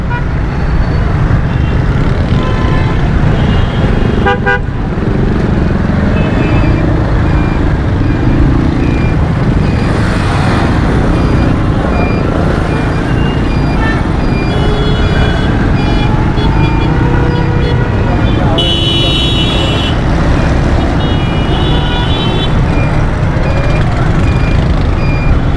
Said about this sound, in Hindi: यहाँ पर बहुत ज़्यादा ट्रैफिक जाम हुआ है।